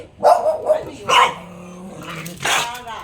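A dog barks loudly several times nearby in sharp, uneven bursts, with a growly edge between barks.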